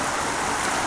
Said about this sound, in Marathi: हा वाहतं पाणी आहे रे